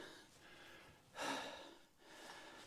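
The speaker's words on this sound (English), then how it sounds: "Heavy breathing today." Heavy, audible breaths from a hiker on a desert trail along the Arizona border, with a few rhythmic inhales and exhales, faint and close to the microphone, with no talking.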